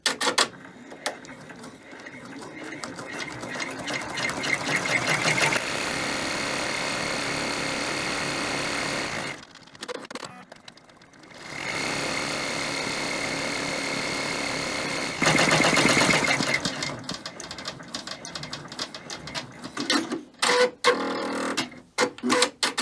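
Embroidery machine stitching a buttonhole in its hoop frame: a steady, fast mechanical whirring hum that runs for several seconds, pauses briefly, resumes, then breaks into scattered clicks near the end.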